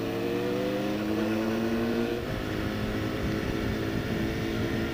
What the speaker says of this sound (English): some of these bikes out here, man, they got loud exhaust